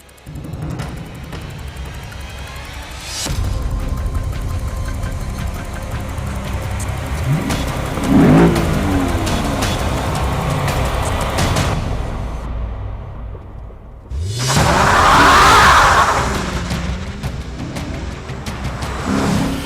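A Lexus IS-F sports sedan engine drives and revs hard, surging through gear changes with loud acceleration bursts and passing swells, near and continuous throughout.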